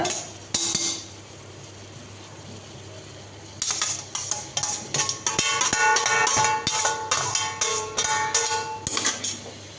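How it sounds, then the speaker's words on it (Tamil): A metal spoon stirs vegetable pulao in a cooking pot, scraping and clanking against the sides in an irregular run of sharp knocks, quiet at first and then a dense, loud stretch of repeated strokes. "நல்லா கலந்து விட்டுருங்க"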